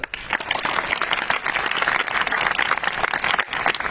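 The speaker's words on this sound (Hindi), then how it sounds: "यह बात ताली बजाने की।" An audience at a talk breaks into loud, dense applause, many hands clapping close and continuously for several seconds.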